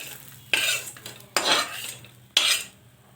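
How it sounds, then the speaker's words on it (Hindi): Metal utensils scrape and clatter against a pan three times as paneer bhujia made with buttermilk is served, each stroke sharp and close over a quiet background. "ये रही हमारी मट्ठा की भुजिया पनीर, बन के तैयार हो गई। अब हम इसको परोस लेते हैं।"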